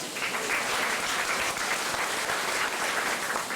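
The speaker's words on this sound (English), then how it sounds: "Let's give him a big round of applause." A crowd on a Disney-MGM Studios backlot tour applauds steadily, a thick continuous wash of clapping at even loudness throughout, with no speech over it.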